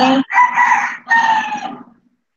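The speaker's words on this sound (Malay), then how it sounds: "Bunyi ayam tu." A rooster crows nearby in a village, one loud, clear cock-a-doodle-doo in several bursts that trails away into silence, with no voices over it.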